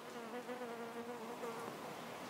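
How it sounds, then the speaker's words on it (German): A bee buzzes steadily on an autumn balcony, a close, continuous droning hum holding for a couple of seconds with no voices over it. "Ihr habt sie wahrscheinlich summen hören."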